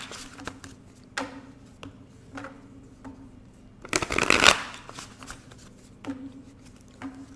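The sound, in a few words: shuffling cards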